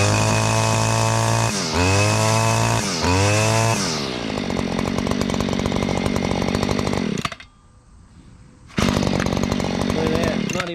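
A Stihl FS94R string trimmer, freshly repaired recoil and carrier, runs loud and close after a pull start, revving in rising bursts then settling to a steady buzzing idle that drops briefly before surging back.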